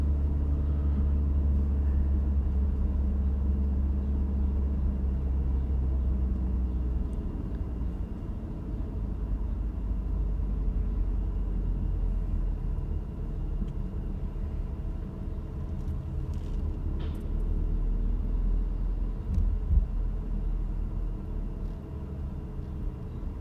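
A car driving on a very smooth road surface near Monaco, giving a steady, low engine and tyre rumble that holds evenly throughout with no talk.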